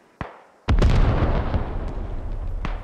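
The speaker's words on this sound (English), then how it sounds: "And that's definitely American artillery on that hab." American artillery shells land in the video game Squad during a 50v50 match on the Mestia map: a faint pop, then a heavy close blast with a long rumbling decay and a few scattered later impacts.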